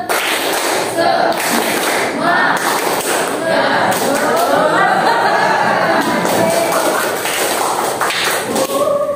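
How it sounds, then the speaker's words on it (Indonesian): A school science class claps a patterned spirit clap in rhythmic bursts of thuds and taps, mixed with children's voices chanting along. "Tepuk semangat"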